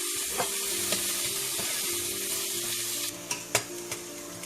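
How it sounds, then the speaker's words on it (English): Onions sautéing with a pinch of salt in a pan, a continuous close sizzle broken by sharp stirring clinks and scrapes that get louder toward the end. "If you want to saute your onions fast and make them brown fast, you can add little bit of salt"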